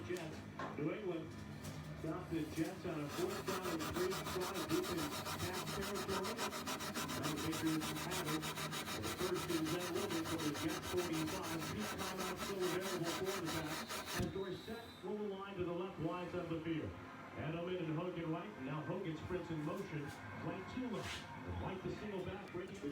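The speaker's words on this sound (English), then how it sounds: "we're gonna come in with some 600 grit sandpaper and do the same kind of process" Steady, rapid rubbing and scraping of 600 grit sandpaper on the metal frets and wood of a 1957 Fender Esquire guitar, close up, continuing under a voice talking throughout.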